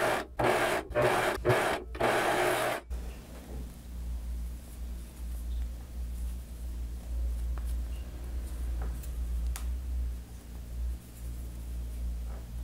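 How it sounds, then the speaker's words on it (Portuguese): An overlock sewing machine stitches a cuff onto the sleeve of a polka-dot tulle blouse in four loud, rapid whirring bursts over the first three seconds, followed by a low, quiet rumble with occasional light ticks. "E aí é só esticar e passar um overlock aqui."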